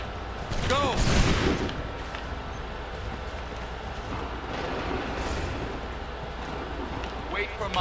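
Musket volley fire in Assassin's Creed 3 during a Redcoats attack, a thick crackling fusillade swelling early then lingering as a steady rattling din under game noise and a player's voice.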